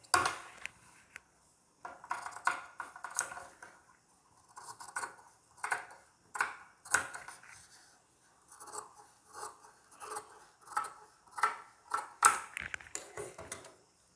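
Scissors cut through blouse fabric in a series of short, crisp snips and crunches with small pauses between them. The cutting is close and fairly quiet, and nobody speaks.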